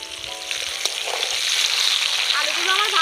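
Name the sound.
potatoes frying in oil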